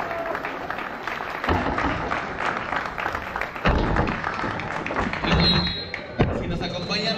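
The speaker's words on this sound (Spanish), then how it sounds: "Fuerte el aplauso para todos" Clapping from the crowd at a community ceremony in Salazares, a patter of applause mixed with heavy thumps and taps, partly masked by a voice talking over it throughout.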